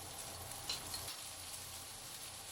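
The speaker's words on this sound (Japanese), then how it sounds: "ナスを炒めて油をさっとかけます" Eggplant stir-frying in oil in a pan gives a steady, fairly soft sizzling hiss that runs evenly the whole time, close by, with no voices.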